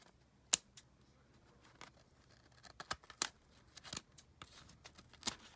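Quiet, irregular snips of scissors cutting through paper or card, single crisp cuts spaced unevenly with soft rustling in between.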